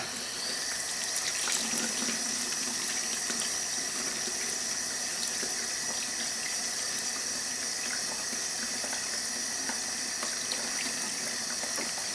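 Steady running hot tap water pouring into a sink, a continuous close splashing rush that holds level throughout with no voices.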